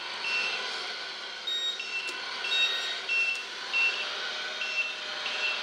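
An RC forklift backing up gives off a steady series of high, evenly spaced reversing beeps over a soft background hiss, loud and close, with no talk.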